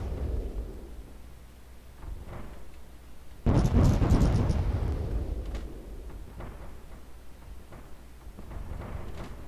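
A torpedo strikes a warship in Roblox Warships: a single heavy boom bursts out midway and rolls away slowly beneath a low, constant rumble.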